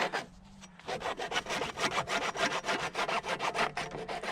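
A spade scrapes rhythmically through compacted garden soil while a trench is dug to bury a water pipe with a tap, steady close rasping strokes about three per second.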